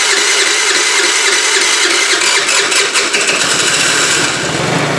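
A 2013 TaoTao scooter engine fires and keeps running, a loud, close, buzzy small-engine drone that wavers slightly as it settles, steady throughout with no talk.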